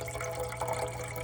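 Water drips and trickles as worms are poured out of a container while feeding grindle worms; a close, continuous liquid patter under a steady low hum, no speech.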